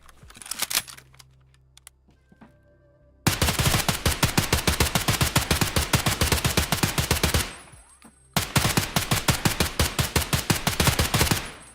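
An HK rifle fires full-auto in Escape from Tarkov: a few scattered shots, then two long, loud, rapid bursts of evenly spaced rounds, separated by a brief pause.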